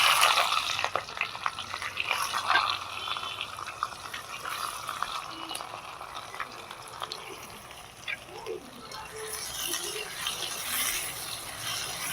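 Chopped onion frying in hot oil for a restaurant-style palak chicken, a steady crackling sizzle with occasional stirring scrapes running throughout at moderate loudness.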